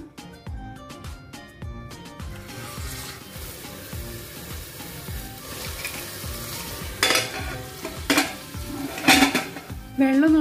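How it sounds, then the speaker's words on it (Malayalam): A whole stuffed chicken cooks in a little coconut oil inside a pressure cooker, with metallic clanks and scrapes of a spoon against the pot over a low sizzle, getting louder and busier toward the end. "ഇനി നമുക്ക് ഈ ചിക്കൻ കുക്കറിൽ വേവിച്ചിട്ട് വേവിച്ചു കൊടുക്കാം."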